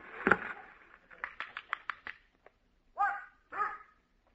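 A dog barks at a record being played on an old-time radio show, a quick run of sharp yips followed by two longer, louder whining barks, close and alone.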